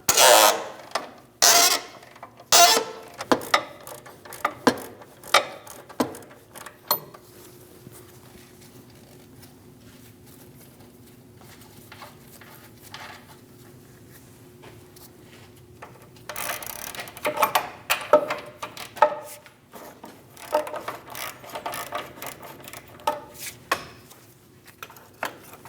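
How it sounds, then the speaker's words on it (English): Two 21 mm wrenches work a cam bolt nut on a 2001-2006 Chevrolet Silverado front upper control arm: sharp metallic clicks and ratcheting taps come in early bursts, fall to a quiet stretch, then return as a busier run of close clacks. No one speaks. "Using two 21 millimeters for the head and the nut, we're going to hold the head of the bolt and loosen the nut."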